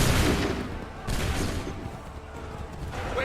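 Musket volleys fired by soldiers at the Battle of Bunker Hill in Assassin's Creed 3 Remastered, with dense crackling gunfire opening and a second burst near the middle, under battlefield din and shouting voices.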